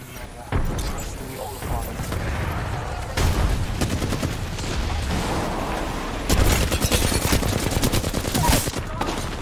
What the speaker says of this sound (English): Being shot at. I'm taking fire.